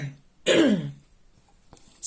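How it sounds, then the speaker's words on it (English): A single close, harsh throat clearing or cough bursts out from someone speaking indoors, followed by a quiet pause and a faint breathy sound at the end. "I've got a cough stuck."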